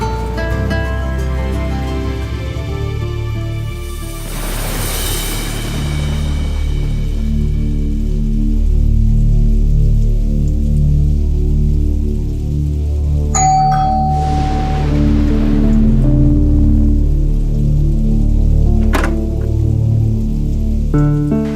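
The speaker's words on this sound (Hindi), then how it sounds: "बारिश को भी अभी शुरू होना था।" Rain falls in a steady hiss under loud, sustained music with chime-like tones, briefly swelling into a heavier wash before settling back under the score.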